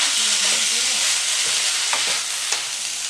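Rice mixed with soy sauce and chili sauce is stirred in a hot pan, giving a steady loud sizzle with a few scraping strokes of the utensil, with no talk.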